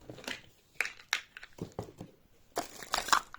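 Cardboard packaging of a Relax Tone massage device box being opened, with scattered crinkling and crunching rustles in short bursts, close by and fairly quiet, no talking.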